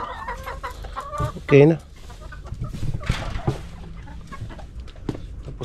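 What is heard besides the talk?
chickens clucking on a small farm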